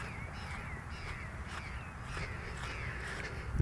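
Outdoors in São Paulo, a plush-crested jay gives a series of harsh, crow-like calls, repeated several times at a moderate distance over a quiet, steady background.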